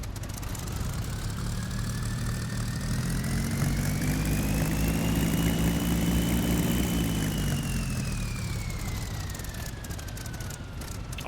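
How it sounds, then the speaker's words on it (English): A Bf-109 engine in a flight video game, a loud sustained drone whose turbo whine climbs, holds and then sinks across the run, steady and close with no speech. "Also that turbo noise."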